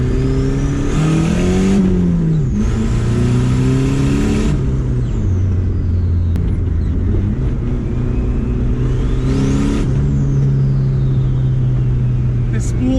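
A KA24 engine with a homemade twin-wastegate turbo setup at 6 psi revs repeatedly. Rising and falling engine tones carry a high turbo spool whine that sweeps up on each pull, with people talking over it.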